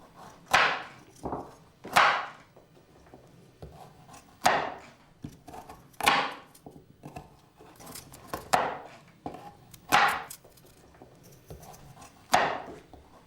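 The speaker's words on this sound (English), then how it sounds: "I need to chop the vegetables." Sharp knife chops through vegetables on a cutting board, about a dozen distinct strikes at an irregular pace, close and clear with no talking.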